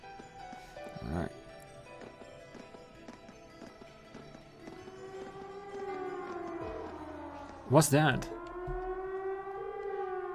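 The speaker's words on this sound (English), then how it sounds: "It sounds like a siren." A rising and falling siren from a fort wails over a game soundtrack in Trails of Cold Steel, swelling toward the end, while a voice briefly asks a question.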